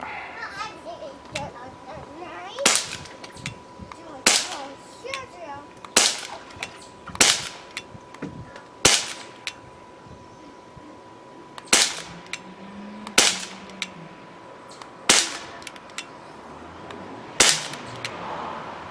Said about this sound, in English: It does jump a little bit with every shot.